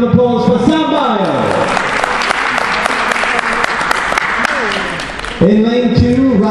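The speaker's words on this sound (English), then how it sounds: "Big round of applause for Sam Bio." A crowd at a foot racing meeting, the Gateshead Gift, gives a loud, steady round of applause for a runner during the final build-up. An announcer talks over the clapping at the start and end.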